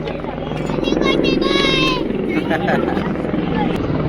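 A helicopter's steady rotor drone fills the scene, loud and close, at Gobind Dham on the Hemkund Sahib route, with people chattering in the background.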